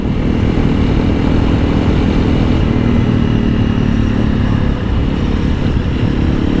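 A 2022 Honda CRF300L dirt bike fitted with a Yoshimura RS-4 full exhaust pipe, heard while riding: a continuous engine drone mixed with heavy wind rumble, loud and steady throughout with no clear revving changes.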